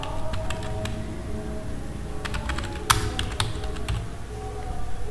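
Steady typing on a computer keyboard while working in Microsoft Word, a continuous run of close, quick key clicks with a few louder taps over faint room hum, no voices.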